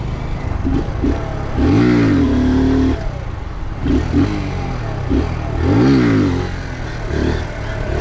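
Motorcycle engine revving hard during a wheelie, rising and falling in two loud surges with steady engine drone between them, close and alone with no talk.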